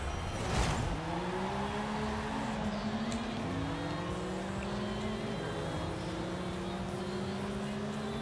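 Two Porsche 911 GT3s, a 2021 model and a 2019 model, drag racing in Forza Horizon 5, with loud sustained engine drone and rising gear-pitch sweeps as both cars accelerate hard, a brief sharp burst near the start.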